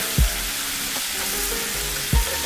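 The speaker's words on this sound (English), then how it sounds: "the mushrooms are so porous and absorbent that they will clean your pan as they cook" Mushrooms sear in a well-seasoned pan for chicken marsala, a steady broad sizzle with a couple of soft thumps of stirring, and no talking.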